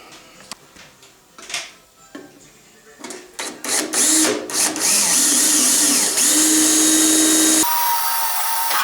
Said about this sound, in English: Got some holes to drill.